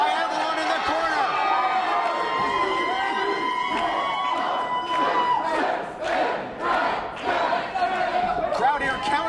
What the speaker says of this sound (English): Crowd here counting in unison.